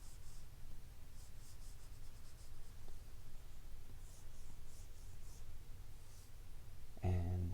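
A pencil sketches loose shadows on paper for a lighthouse drawing, a steady soft scratching and hatching that runs continuously at close range, with a brief louder rustle near the end.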